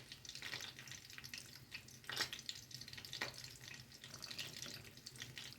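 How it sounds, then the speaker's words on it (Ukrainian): Boiling marinade poured from a pot into glass jars packed with a mushroom vegetable salad, a faint continuous trickle and splash with occasional clinks, no talking. "Закипів маринад, я наливаю баночки."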